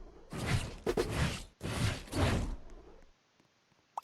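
Door swinging open in the Roblox game Anime Dungeon Fighters, heard as two loud, sweeping whooshing bursts in close succession, then the room falls nearly quiet.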